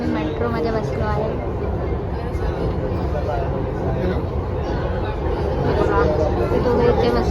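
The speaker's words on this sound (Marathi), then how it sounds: "गाईज आता आम्ही मेट्रोमध्ये बसलो आहे" Inside a moving metro train, a steady low rumble and rattle of the carriage fills the space, growing slightly louder near the end, with people talking nearby.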